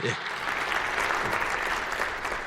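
A church congregation at a New Year prayer service claps together, a dense, close burst of applause with a voice faintly mixed in.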